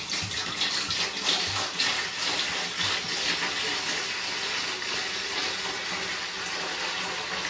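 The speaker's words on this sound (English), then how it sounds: "all I do is I start off by putting in steam distilled water" Steam-distilled water pours steadily into a big soup pot, a continuous loud splashing gush that holds a fairly even level throughout.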